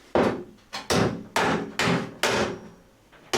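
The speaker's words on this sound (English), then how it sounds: "hammered over the flange" Six sharp, ringing hammer blows fall at a steady, slightly uneven pace as a steel bonnet flange on a camper van is folded over. The strikes are close and distinct, and each one decays quickly.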